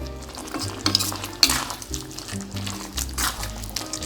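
Prawn masala with chili, coriander, garam masala and turmeric powders is stirred in a frying pan, giving repeated scraping sweeps and clinks of a utensil against the metal over a soft sizzle, close and rhythmic.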